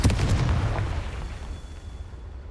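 A Confringo fire spell bursts in Hogwarts Legacy, a loud booming explosion with a sharp attack that rumbles and decays over a couple of seconds, with no talk over it.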